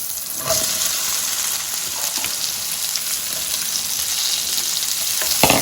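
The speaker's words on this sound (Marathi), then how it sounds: "आता आपण भेंडी घालणार आहोत त्याच्यामध्ये" Okra hits hot oil with fried chillies for Marathi-style bhendi bhaji, setting off a continuous close sizzle. Light stirring scrapes break in now and then.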